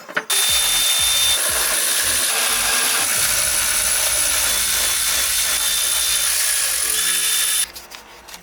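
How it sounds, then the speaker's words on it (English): A power tool whirs steadily for several seconds while starter bolts are threaded into a transmission adapter plate, preceded by a few short clicks and ending abruptly. "You're getting a few starter bolts threaded in."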